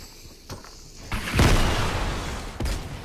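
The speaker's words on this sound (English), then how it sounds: "He's just shooting off RPGs." RPG rockets exploding in a shooter video game: a deep booming blast that swells and rolls for about a second, then a smaller thump, over steady game noise.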